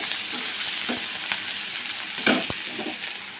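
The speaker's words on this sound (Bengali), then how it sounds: "এই দেখো আমি একটা এক্সট্রা ভেজে নিচ্ছি" Food sizzles in hot oil in a pan while chicken biryani is made, a steady hiss with a few sharp utensil clicks and scrapes, close and without speech.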